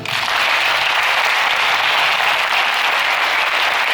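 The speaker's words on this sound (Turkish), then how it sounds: "Onlar için ben bir alkış istiyorum." Loud, sustained applause from a large audience at a 2017 Çanakkale martyrs commemoration program at a mosque in Oudenaarde, steady and dense throughout with no break.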